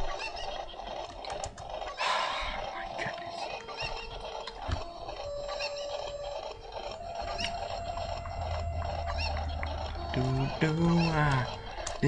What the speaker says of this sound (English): They're freaking chickens.